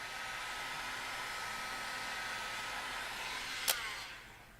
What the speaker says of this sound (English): To remove the display adhesive, it is best to use a hot air gun or an ordinary hairdryer.